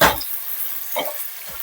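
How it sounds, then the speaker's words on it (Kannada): Strips of capsicum fry with onions in a pan, giving a short burst of close sizzling and a few scraping stirs over about a second and a half, with no voices. "ಫ್ರೈ ಮಾಡ್ಕೊತಾ ಇದ್ದೀನಿ."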